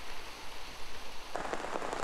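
Torrential downpour during a concentrated heavy-rain event in Shizuoka, with flooded city roads: a steady dense hiss of rain that swells into heavier pattering spatter partway through, fairly quiet and with no voices.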